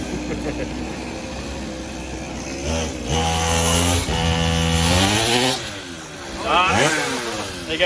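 Nissan R34 Skyline on a dyno, with a drive chain breaking mid-run: a loud engine revs up and down in rising and falling sweeps, with sharp mechanical bursts as the load suddenly drops.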